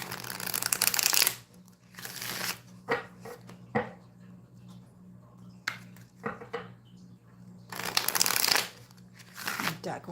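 A deck of tarot cards is riffled and shuffled in several loud, close bursts. Quieter card taps and handling noises fall between them, and a voice speaks now and then.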